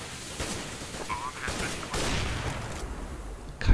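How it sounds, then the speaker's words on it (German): Auto sniper rifle shots ring out in a Counter-Strike match as several sharp reports, with a louder blast at the end, under steady talk from a commentator. "Autosniper trifft"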